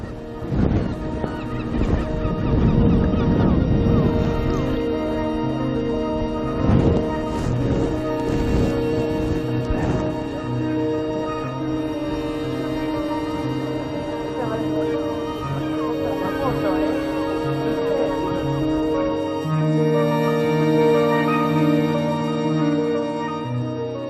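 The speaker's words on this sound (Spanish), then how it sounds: "Y allí estaba una colonia de patos vapor que es característica de estas costas" Steamer ducks in a colony on the Patagonian coast give loud, continuous honking and grunting calls that overlap into a dense chorus, with a voice talking over them throughout.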